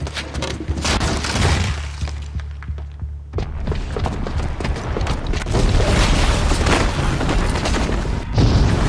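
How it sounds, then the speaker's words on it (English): A booby-trapped bomb exploding in Horizon Zero Dawn: a loud, sustained roar of blast and debris with crashing, breaking and creaking mechanisms, briefly easing before surging again and continuing to the end. "the booby trap on the bomb downstairs is gonna get set off"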